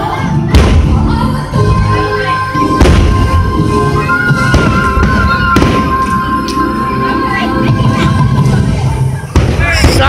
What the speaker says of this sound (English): I'm watching the fireworks from Frontierland.